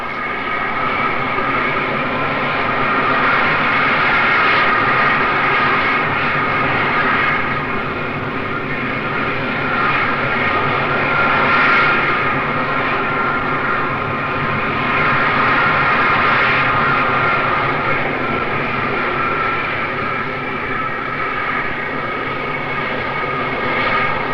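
The jet engines of the Concorde 002 prototype roar steadily on its first flight in 1969, a loud, continuous, muffled broadband rumble that holds constant with slight swells throughout.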